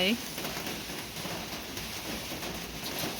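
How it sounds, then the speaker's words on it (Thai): Rain falls steadily in a dense, even hiss that fills the whole stretch, with a brief faint sound at the very start. "ฝนตกเลยได้เล่นน้ำฝนแล้วฟิน"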